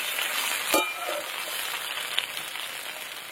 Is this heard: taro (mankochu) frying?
yes